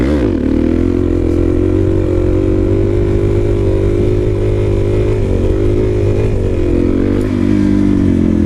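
A motorcycle engine runs loud and close during wheelie throttle-control practice, holding a strong continuous drone with small rises and dips in revs and no talk.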